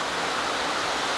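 Steady, dense rush of a flowing stream among mossy rocks in Macquarie Pass National Park, Australia, close and even in level throughout with no voices.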